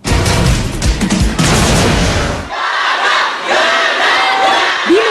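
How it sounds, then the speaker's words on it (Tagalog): Lady Gaga fans at her arrival in the Philippines, a loud dense crowd roar of screaming and cheering that drops abruptly to thinner distant crowd noise partway through. "Di nagkamayaw sa hiyawan ng fans ni Lady Gaga sa pagdating niya sa Pilipinas nitong Sabado."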